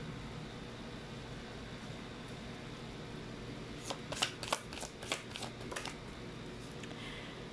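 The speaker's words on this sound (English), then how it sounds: "let's try to pull up your Chinese fortune cards" Chinese fortune cards are shuffled in a quick riffle of several crisp flicking bursts over a steady low background hum, close and fairly soft, with no one speaking.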